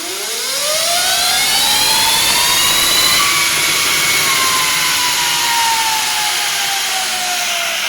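Electric Honda CRF motorcycle making a dyno run at the rear wheel, a steady loud motor whine rising in pitch and holding high over a constant roar, close and continuous.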